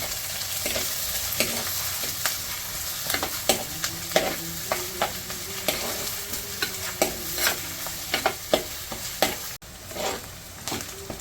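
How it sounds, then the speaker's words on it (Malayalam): Chopped shallots and green chillies sizzle in oil in a pan for fish curry while a spoon scrapes and stirs, giving repeated sharp scraping taps over a continuous frying hiss, close and clear. "ഇനി നന്നായിട്ട് ഇളക്കി കൊടുക്കാം."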